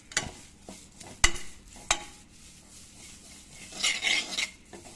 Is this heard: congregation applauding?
no